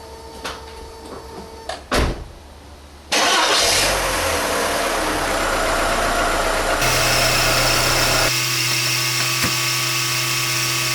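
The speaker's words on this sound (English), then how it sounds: "I'm just gonna run the engine for a minute or two" A 2004 VW Polo 1.4 engine cranks and starts after a few clicks, then settles into a steady, loud idle that shifts pitch partway through.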